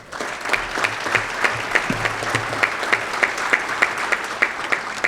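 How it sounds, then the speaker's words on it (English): A meeting audience applauds the Levy Cup captains, continuous moderate clapping from a room full of people with a few distinct near claps keeping a loose rhythm and faint murmurs underneath. "Please give each of our captains a round of applause."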